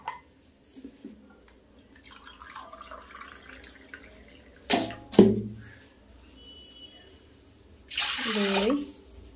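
Water poured from a cup into a pot of raw rice, with a brief splashing pour midway and a longer, louder steady pour near the end, a voice talking faintly between pours.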